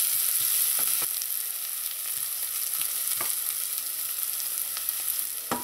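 Onions softening in a hot pan give a continuous, even hiss of frying, with scattered soft crackles and a few light taps from a utensil, all close and alone.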